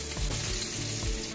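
Ginger sizzling in hot oil in a pan for chicken sinigang with miso, a brief close sizzle with light scraping knocks, no voices.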